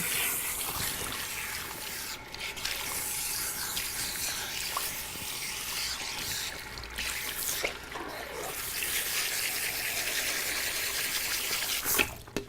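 Water runs steadily from a basin tap while hair is rinsed, a continuous close splashing rush with brief changes in the flow.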